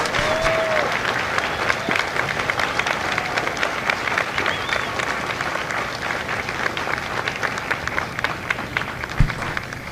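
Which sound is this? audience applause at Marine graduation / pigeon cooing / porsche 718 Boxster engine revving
audience applause at Marine graduation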